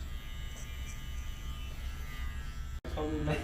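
Electric hair clippers cutting a slight taper on a child's hair at a barbershop, a steady close buzzing hum that briefly cuts out before resuming, with voices in the background.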